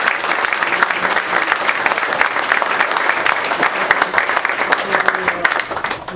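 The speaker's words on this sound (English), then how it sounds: "give Veronica and the Historical Society an additional round of applause." Sustained round of audience applause at an outdoor Juneteenth community celebration in Altadena, loud and continuous with crisp individual claps throughout.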